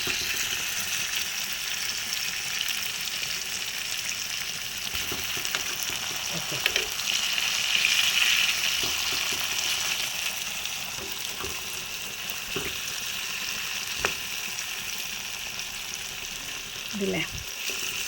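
Tuna fish pieces frying in oil with curry leaves, a steady close sizzle and crackle with occasional sharper pops and stirring knocks throughout.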